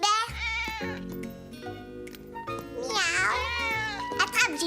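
Gilbert, a cartoon cat in Caillou, meows repeatedly in drawn-out, wavering cries. A voice imitates the meows between them, and the cries are clear and close against a music backdrop.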